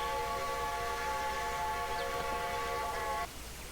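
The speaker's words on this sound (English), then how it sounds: "This one has a working whistle." A model train whistle blows one steady, reedy tone for about three seconds over a constant background hum, then cuts off.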